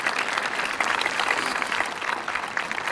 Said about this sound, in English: I'd love to have a round of applause also for this wonderful group.